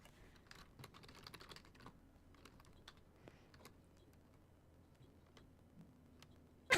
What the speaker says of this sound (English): So should be listening to you typing out responses